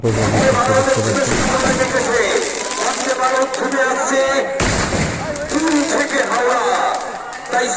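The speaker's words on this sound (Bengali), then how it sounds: "আর এখন বাজি ফাটানো শেষ হলো" Firecrackers burst at a Shmashan Kali fair in Mawa village, Paschim Medinipur, West Bengal, sharp cracks and pops scattered through a loud, dense crowd din full of voices.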